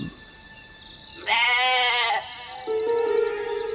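Goat bleating as a sound effect in a horror story set in a field at night, two loud drawn-out wavering bleats close by over a quiet eerie tonal background.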